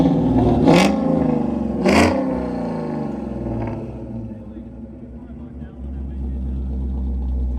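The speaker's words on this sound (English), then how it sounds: "Now let's hear some comp cams chop." A Ford Mustang Bullitt fitted with a Comp Cams camshaft idles close by with a lumpy, choppy rumble, and two sharp throttle blips rise above it early on before it settles back into a steady idle.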